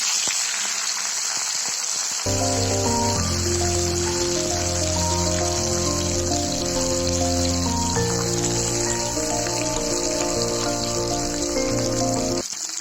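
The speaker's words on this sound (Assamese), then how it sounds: "এতিয়া মই বাকী থকা তেলখিনিত 2-3টা জলকীয়া ফালি ফালি দি দিছোঁ আৰু ইয়াত মই এতিয়া দিম নৰসিংহ পাত আৰু এইখিনি ভালকৈ ভাজি ল'ম" Split green chillies and curry leaves frying in hot oil, a steady loud crackling sizzle that starts after a couple of seconds and runs continuously under melodic background music.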